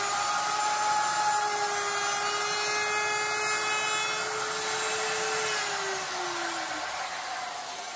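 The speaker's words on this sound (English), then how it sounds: "I'm going to take our router and round over both sides of this hole here" A router rounding over both edges of a hole gives a steady, loud high whine with a constant tone that dips lower near the end as the bit loads up or winds down.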